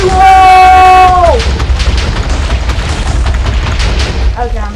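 Minecraft special armour mod explosion: a loud, sustained booming blast with a long rumbling tail, following a brief tonal sound, heard close with no talk over it.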